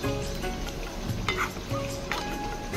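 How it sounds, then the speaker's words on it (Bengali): Cashew nuts frying in hot oil with a steady, close sizzle and occasional stirring clinks, continuous and fairly loud with no talking. "সেই তেলের মধ্যে আমি কাজু বাদাম দিয়ে দিলাম, আর কাজু বাদামটা হালকা করে লাল করে নেব আমি"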